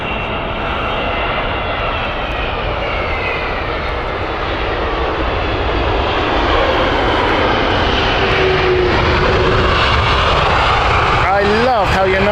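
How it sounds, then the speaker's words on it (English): A United Boeing 777-200 arriving at Heathrow from San Francisco, a loud sustained jet engine roar with whining tones, close and steady, with a sweeping pitch shift near the end. "This is United. This is their 777-200 coming in from San Francisco."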